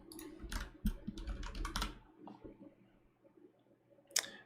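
Quick bursts of typing on a computer keyboard, a cluster of close clicky keystrokes followed by a quiet pause and one last sharp tap, soft and near with no talking.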